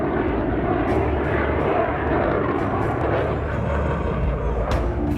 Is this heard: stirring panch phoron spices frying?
no